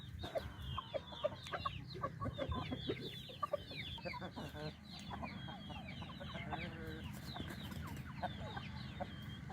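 Asil hens cluck and call repeatedly around a basket on a farm while nesting for eggs, with busy overlapping clucks, a few sharper calls and faint background farmyard noise.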